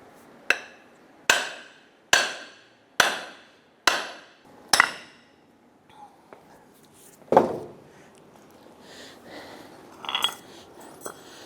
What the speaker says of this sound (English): I'm going to use my hammer to hit that axle and try and push that through.